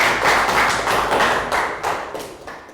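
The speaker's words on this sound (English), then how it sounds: "Round of applause for Bang Pon." Brief burst of clapping hands in a Year 3 classroom, several people applauding together at a steady pace, fairly close and fading slightly toward the end.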